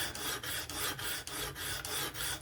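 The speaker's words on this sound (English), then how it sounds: "But the sharpener gets you used to this sound." A folding knife being sharpened on a Work Sharp Professional Adjust guided sharpener, with quick rhythmic rasping strokes about four per second, close and steady, and no voices.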